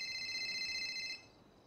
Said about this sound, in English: my phone won't stop ringing